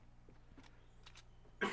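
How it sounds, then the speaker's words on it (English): A single sharp cough bursts out near the end, loud and close, after a quiet stretch of faint background sound during an online shooter game. "Yeah, I knew there was another cough coming there."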